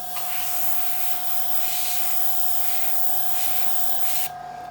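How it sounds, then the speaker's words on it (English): An airbrush sprays light ghost gray base coat over a Tamiya 1/48 F-14A model plane: a steady close hiss with a faint hum beneath, running without pause and cutting off abruptly near the end. "then we'll spray my base coat, which is going to be the light ghost gray, over top of this"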